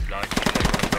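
Rapid automatic gunfire from a video game scrim rattles out in a fast, steady burst of close, loud shots with no gaps.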